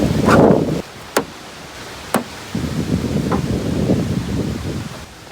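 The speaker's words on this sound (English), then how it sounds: "Dude, it's windy out today." Gusty wind buffets the microphone outdoors, loud at first, then a steady low rumble, with two sharp clicks partway through.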